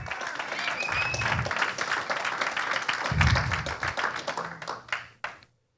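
Church congregation breaks into applause during a Spanish-language sermon, a dense, steady patter of many hands clapping that swells midway and then tapers off abruptly near the end.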